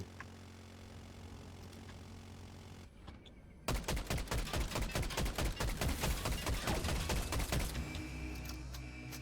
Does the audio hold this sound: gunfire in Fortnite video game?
yes